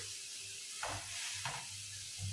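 Chicken sausage fries in a pan, a soft continuous sizzle with a few brief scraping stirs, quiet and close.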